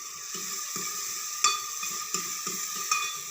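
Garlic and onion added together to a pan for a dry turnip sabzi, sizzling in a steady high hiss with a few stirring clanks and knocks, no speech.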